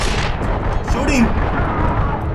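Gunfire in the video game The Darkness comes as loud, dense booming blasts that fill the whole stretch, with voices mixed in among the shots.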